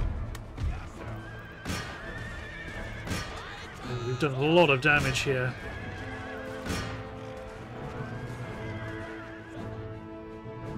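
Cavalry horses neigh in the video game Empire Total War, a loud wavering whinny in the middle of a battle with hoof clatter and background din, while someone talks over it.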